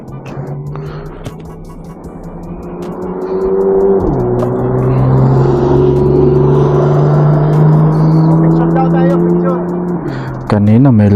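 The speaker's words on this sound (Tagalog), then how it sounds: "Oh, may Porsche oh." A yellow Porsche sports car engine drones loudly nearby, pitch shifting as it moves past, with steady road noise throughout and a brief rise near the end.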